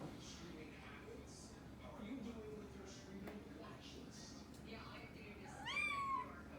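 A kitten meows at a bird beyond a skylight, with soft mewing calls scattered through the clip and a louder, rising meow near the end, over faint room background.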